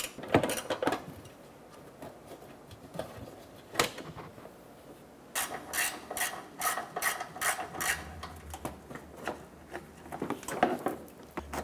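A ratchet fitted with a 7mm socket works a small bolt inside the bumper of a 2006-2013 Chevrolet Impala, giving bursts of quick mechanical clicking with a few louder knocks, close up and with no talk.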